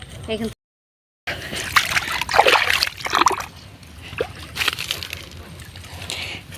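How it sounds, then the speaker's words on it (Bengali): Muddy bare feet being washed outdoors, with close, irregular water splashes and trickles in bursts, briefly broken by a short silence, with faint background sounds. "পা ধুইলাম পায়ে কাদা লেগে গেছে"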